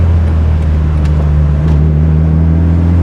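Turbocharged car engine fitted with a chambered muffler, a steady loud low droning rumble held close throughout with little rise in pitch, no voices.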